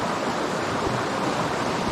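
A river flowing steadily, a continuous broadband rush of moving water with no breaks, fairly close and even in level, with no voices.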